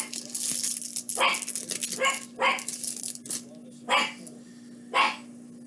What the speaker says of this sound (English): and now the dog's being loud.